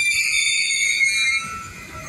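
A northbound freight train slows to a stop, its wheels squealing in high, sustained metallic tones over a low rolling rumble that eases off partway through.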